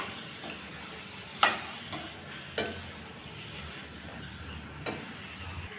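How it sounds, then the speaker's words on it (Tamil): Chicken is stirred with masala in a pan for a chicken gravy: a quiet, soft simmering hiss broken by a few sharp, spaced scrapes and knocks of a spoon against metal. "இப்போ இது நல்லா இந்த மசாலாவோட கலந்து விட்டுறணும்."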